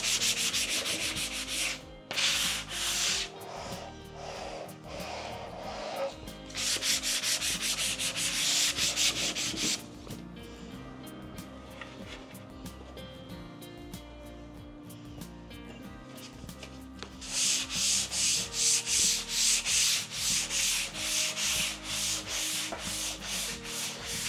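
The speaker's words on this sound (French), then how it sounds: "on va faire donc un léger égrenage avec l'éponge de finition grain fin" A fine-grit finishing sponge rubs lightly over dried oak furniture in long back-and-forth strokes, a close, steady scratchy rasp that shifts in intensity between passes and turns into rapid rhythmic strokes near the end, with no talking.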